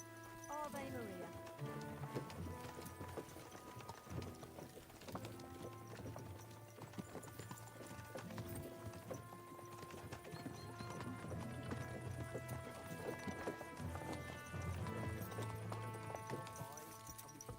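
Horse hooves clip-clopping at a steady pace in the medieval game Kingdom Come: Deliverance II, joined by a whinny, running under constant game music with a rider talking over it.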